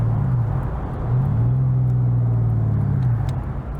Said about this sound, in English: Flowmaster is still the classic sound for the pushrod motor